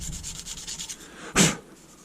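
Strokes of hand sanding across a knife handle, a run of soft repeated rubbing passes followed by one louder, sharper scrape near the end, close and alone with no talk.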